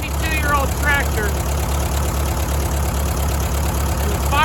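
An old tractor engine, 72 years old, runs with a steady rhythmic low chugging beat. The engine sound is loud and close, with a voice talking over it.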